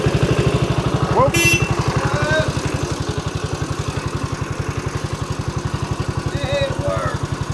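A Cushman vehicle engine chugging in a fast, steady rhythm, loud and close, with brief voices and a short squeal over it.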